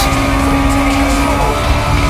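A Ford Mustang GT races in the video game Need for Speed: Most Wanted, its engine droning loud and close with a steady high whine and faint tire noise, continuous throughout.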